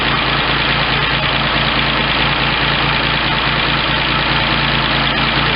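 An MGC GT's engine idles in a small shop, a steady low rumble with an even throbbing pulse, close and loud throughout with no talk over it.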